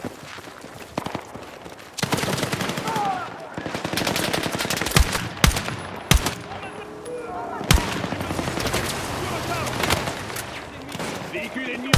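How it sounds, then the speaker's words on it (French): Heavy gunfire in the video game Battlefield 6, with sustained automatic bursts, sharp individual cracks and occasional booming blasts, loud and close throughout a chaotic battle soundscape. "Ah ouais, ça tire."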